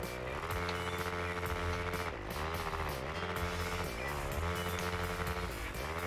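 A loud, continuous motorcycle engine in Monster Energy Supercross 3 drones and revs without pause, with rapid rasping backfire pops running through it.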